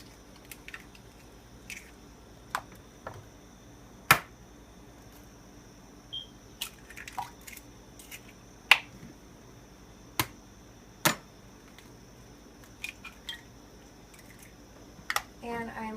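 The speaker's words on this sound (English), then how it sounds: "So I'm going to just crack in 3 eggs." Three eggs cracked one by one into a bowl of milk for funnel cake batter, sharp scattered shell taps and clicks with soft splashes over a quiet room, sparse and close.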